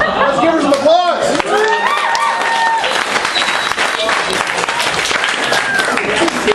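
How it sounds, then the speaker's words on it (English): A convention audience at an anime festival auction breaks into loud applause with cheers and whoops, dense clapping sustained throughout as voices shout over it. "Let's give her some applause!"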